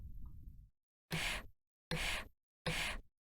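Three distinct breaths in a vocal recording, evenly spaced and fairly loud, follow a brief low murmur at the start; each inhale is a short airy burst.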